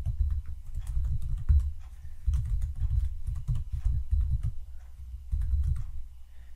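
Steady typing on a computer keyboard while entering DHCP server settings for a NETGEAR ProSAFE WC7600 wireless controller, close and clear in rapid bursts separated by short pauses, with no talking.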